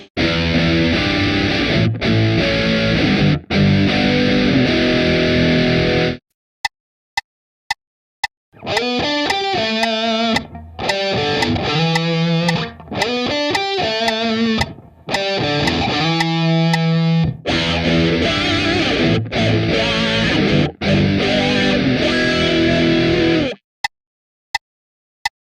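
Distorted electric guitar plays a blues riff built on the pentatonic scale, loud and alone in repeated phrases broken by short gaps of silence and a few sharp isolated hits.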